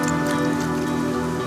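A fish is rinsed of silt in a river, giving a brief, steady close-up splashing and trickling of water.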